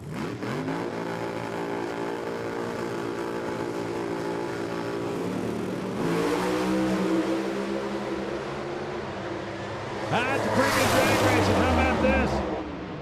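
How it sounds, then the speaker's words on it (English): Alcohol funny cars launch side by side at a drag race at the Northwest Nationals near Seattle, a loud sustained engine roar with rising harmonic sweeps as the cars accelerate, swelling louder near the end amid crowd-like noise. "Alcohol funny cars for the trophy here at the Northwest Nationals."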